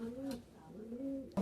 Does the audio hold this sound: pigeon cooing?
yes